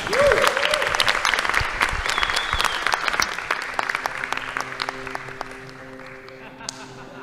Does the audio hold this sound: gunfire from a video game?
no